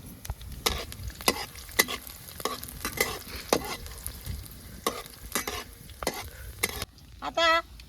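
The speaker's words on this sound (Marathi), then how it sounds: "आता मी जरा कडीपत्ता टाकते" Curry leaves dropped into hot oil for Maharashtrian gavran-style baingan bharta, a steady close sizzle broken by sharp stirring clatters of a spoon against the pan, with a brief louder burst of spitting near the end.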